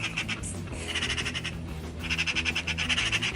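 Two birds trade squawking, chirping calls back and forth, close and fairly clear over a busy, steady background murmur, with the calling growing denser toward the end.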